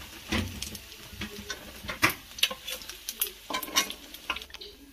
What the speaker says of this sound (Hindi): बाकी बचे हुए भी इस तरीके से फ्राई कर लेंगे